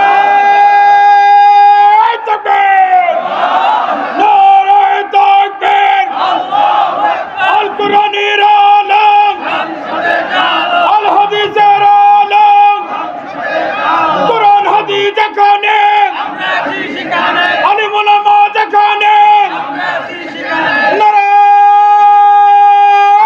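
A large crowd at an outdoor Islamic sermon gathering in Bangladesh roars a takbir chant in answer to a preacher, massed voices rising in repeated loud shouted bursts over sustained tonal background sound.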